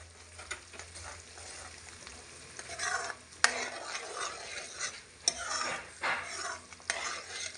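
Green chickpea curry being stirred in a pan as boiled-milk cream is mixed in, giving a soft scraping and sizzle with a few louder clinks of a spoon against the pan, no voices.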